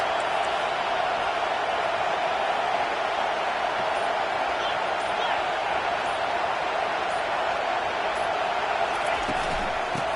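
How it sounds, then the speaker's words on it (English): Dense stadium crowd roaring steadily at a college football game between TCU and Michigan, a loud sustained wash of cheering and noise with no breaks throughout. "Listen to this crowd just shaking the girders of this place, trying to help their defense."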